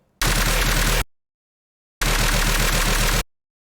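Gun sound samples are used as offbeat percussion in a deathstep drop, with two loud, dense, sustained blasts of processed gunfire separated by silence.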